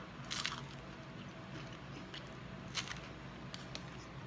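Someone bites into and chews a Taco Bell Double Stacked Taco with Nacho Crunch, giving several close, brief crunches and moist squishing bites over a low room hum.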